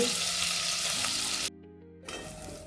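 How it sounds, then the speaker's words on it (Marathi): Masala with ginger and garlic roasting in a pan, a steady close sizzle that cuts out briefly midway before resuming, with faint background music. "मसाला एकसारखा छानसा भाजून घ्यायचा, जेणेकरून मधलं अद्रक असतंय, लसूण असतंय, हे चांगलं भाजलं गेलं"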